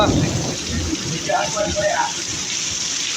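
Steady heavy rain hisses over a low rumble of thunder and lightning cracks, with faint voices and a few brief tonal sounds in the background.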